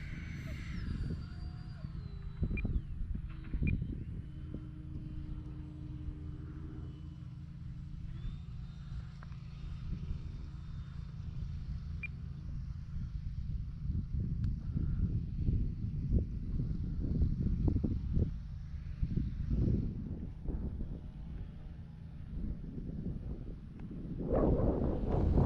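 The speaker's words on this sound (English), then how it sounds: "Oh, by the way, it's also very, very windy." Strong gusty wind buffets the microphone at an RC plane flying field, a continuous low roar with rising surges throughout, with a faint higher whine and some brief talk mixed in.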